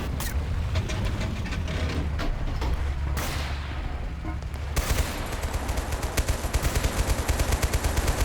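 Manually fired turret machine gun in the Total Conflict: Resistance war game, rapid sustained bursts of gunfire with booming impacts, growing denser and louder in the second half.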